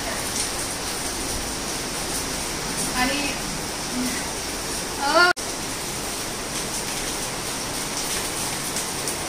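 Steady rain pours down in a rainy outdoor setting, a continuous broadband hiss throughout, with a brief louder clatter near the middle and a spoken word briefly over it.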